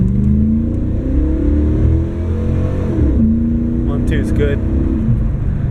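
A junk car's engine drones loudly and rises in pitch as it revs, with a brief spoken remark partway through.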